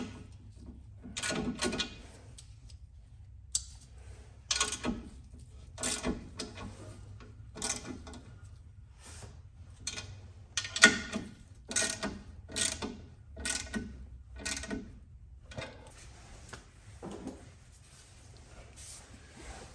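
A wrench ratchets and clicks as oil pump bolts are snugged down on a rusty 1971 VW bus engine, with short bursts of mechanical clicking separated by pauses, close and fairly quiet.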